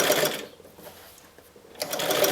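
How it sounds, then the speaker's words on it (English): A sewing machine stitches a fitted skirt seam at half an inch, running in a loud close buzz, pausing for about a second, then starting up again at full speed. "I'm also sewing with the ease side down."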